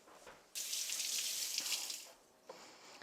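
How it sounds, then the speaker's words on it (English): Preserved lemon rinsed under a running kitchen tap, a sudden bright rush of water that flows steadily for about a second and a half, then cuts off, followed by a small drip or clatter. "You want to take this, you want to give it a quick rinse."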